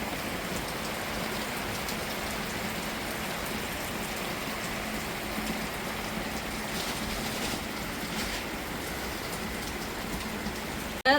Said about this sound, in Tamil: மழையை பாருங்க எப்படி கொளுத்துது.